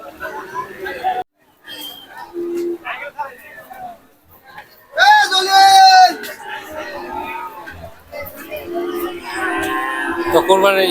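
Cattle low at a busy Kalampur market before Eid, with a loud drawn-out moo in the middle among overlapping chatter and calls from the crowd nearby.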